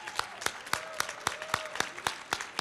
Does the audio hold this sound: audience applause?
yes